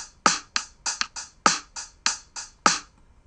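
A basic beat programmed on a Reason Redrum drum machine, with bass drum and snare on the two and four: ten crisp, evenly spaced hits over about three seconds, the strongest accents landing roughly every 1.2 seconds, with no talking.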